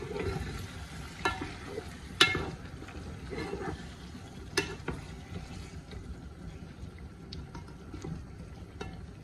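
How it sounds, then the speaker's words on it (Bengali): Tomatoes cooking with spices in a pan for a tangy tomato fish curry, a soft continuous sizzle broken by several sharp stirring clacks and scrapes, fairly quiet, no talking. "এখন আমি টমেটো দিলাম"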